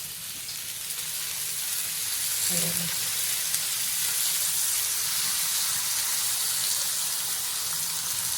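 Potato slices fry in oil with a steady, close sizzle and hiss throughout, with a brief splash of oil poured in early on and no speech.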